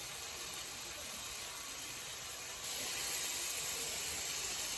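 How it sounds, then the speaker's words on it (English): Steady broadband hiss and crackle of bacon sizzling in a pan, close and continuous, growing slightly louder partway through, with no talking. "that good sizzle. That's what we want to hear."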